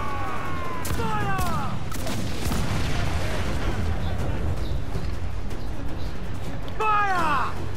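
Ship cannon fire in Assassin's Creed IV Black Flag during a naval battle, deep booming volleys rolling under constant sea and battle noise, with crew shouting over the din.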